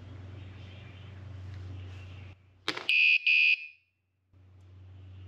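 A Guardian Alarms Cat Alarm PRO catalytic converter alarm gives a short chirp, then two very loud, shrill electronic tone bursts up close. A steady low engine-like hum runs before the alarm and comes back after a pause.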